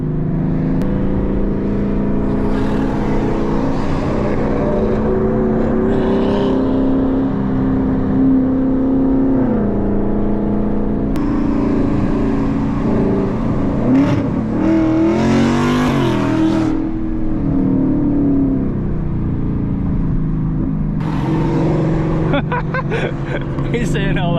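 A full-bolt-on S650 Ford Mustang GT engine pulls hard on a canyon road, rising and falling in loud continuous revving sweeps, with talk over the engine roar.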